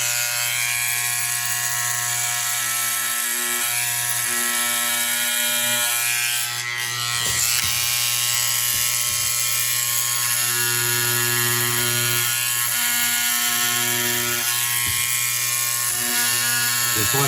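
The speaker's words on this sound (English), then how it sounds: "we'll get out the old electric hair clipper here" An electric hair clipper trims the nap on a small loudspeaker cone with a steady, loud, buzzing hum that runs unbroken close to the microphone, the motor pitch dipping briefly partway as it bites into the material.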